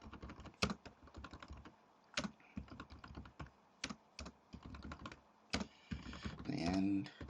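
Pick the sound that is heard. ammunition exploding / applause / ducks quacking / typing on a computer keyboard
typing on a computer keyboard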